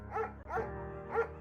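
A shepherd dog in the video game Firewatch gives three barks, evenly spaced and fairly close, over a low steady background hum.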